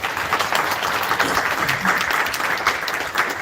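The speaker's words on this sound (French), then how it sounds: "je vous demande de les applaudir encore une fois" Dense, steady applause from an audience at the 2023 Victoire Ingabire Prize for Democracy and Peace award ceremony fills the room, loud and continuous throughout with no talking.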